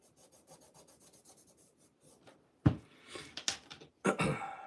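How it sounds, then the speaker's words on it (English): An Edward Green leather shoe upper being hand polished, soft rhythmic rubbing strokes close by, faint at first and then louder, firmer brushing passes in short bursts. "it's just part of that process of hand polishing, hand restorations here"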